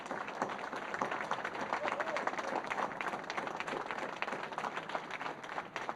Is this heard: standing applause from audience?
yes